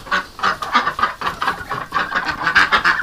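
A flock of ducks being herded into a net, close, busy quacking in overlapping bursts, with no talking over it.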